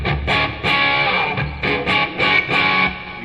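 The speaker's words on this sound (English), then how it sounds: "We put on a little distortion with the plexi." Electric guitar played through a Tech 21 Fly Rig 5 pedal on its plexi distortion setting: several loud, crunchy chords and short riffs with brief gaps between them, no talking.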